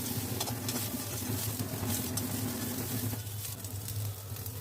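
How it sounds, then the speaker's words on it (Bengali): Garlic and onion sizzle in a little oil in a wok as they turn golden, a continuous close crackling hiss with light stirring, easing slightly toward the end. "রসুন পেঁয়াজটা একটু সোনালি কালারের করে ভেজে নেব"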